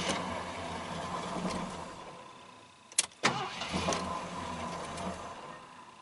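A 1978 Mercury Marquis engine idles steadily close by, broken by a couple of sharp knocks or clunks midway before the even rumble resumes.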